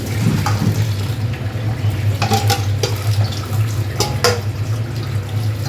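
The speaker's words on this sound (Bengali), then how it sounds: "চাউমিনটা একটু ঠান্ডা জলে ধুয়ে নেব।" Cold tap water runs steadily over boiled chow mein noodles being rinsed in a sink, a continuous splashing wash with a few brief clinks and knocks.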